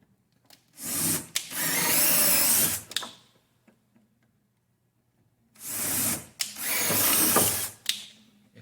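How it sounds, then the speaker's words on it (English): A drill bit run in reverse to ream out a hole in wood, two long steady whirring bursts of about two seconds each, close and loud, separated by a quiet pause. "always have the drill bit go in backwards first to ream the hole"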